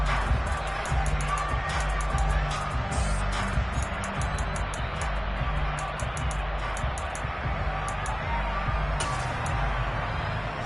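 A home crowd at an American football game cheers and roars in a steady, sustained wash of noise from a large stadium audience. Speech-like chatter and other crowd sounds blend into the cheering throughout.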